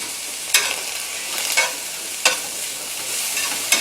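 Green peppers frying in a pan for Spanish rice, a steady close sizzle broken by a few sharp stirring scrapes at irregular intervals, with no voices.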